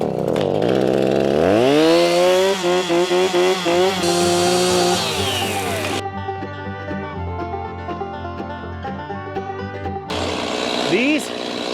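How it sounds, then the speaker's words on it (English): A chainsaw cuts down saplings in woodland where a barndominium is being built, its blade worn and dull; the engine revs loudly and steadily for several seconds, the tone shifting under load, with speech nearby. "Watch out, I'm cutting some of these saplings down."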